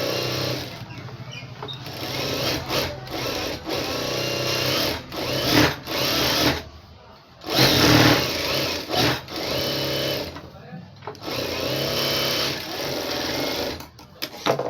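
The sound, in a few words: sewing machine stitching around folded blouse lining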